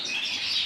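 Pet birds in an indoor bird room, canaries including a colour-fed red, chirp in a brief, dense burst of high twittering, close and fairly loud with no talking.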